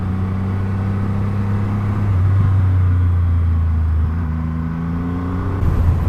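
Triumph Rocket 3 R 2500cc motorcycle ridden on the road, a deep steady engine drone with rising and falling pitch as it accelerates and shifts, close and continuous with no talking.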